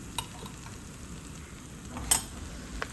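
Soft frying sizzle of peanuts and garlic roasting in a little oil in a pan, with occasional scraping and clinks of a spoon stirring, steady and close.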